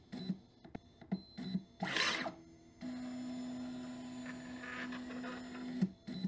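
An MKS SERVO42C closed-loop stepper motor makes a no-load 300 mm speed-test move: a steady, fairly loud tonal whine holds for about three seconds, after brief clicks and a short hiss of noise, then cuts off abruptly.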